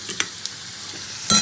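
Potato pieces fry in a pan with tempering spices, a soft steady sizzle broken by a few light utensil taps, then a louder burst of stirring and crackle at the end.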